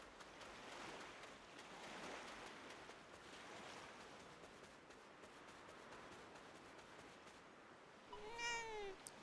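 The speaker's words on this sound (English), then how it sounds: "You can pet the cat in Dragon Quest VII Reimagined." A cat meowing while being petted in the video game Dragon Quest VII Reimagined, a couple of clear meows near the end over a soft wash of ambient game background sound.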